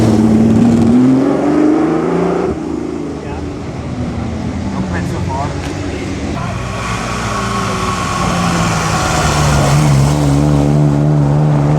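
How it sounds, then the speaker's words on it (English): A Ferrari 250 Testarossa on the 2015 Mille Miglia road rally roars past close by, its loud engine note rising and falling through revs, with voices mixed in. "And here comes that Ferrari 250 Testarossa, sounding really good."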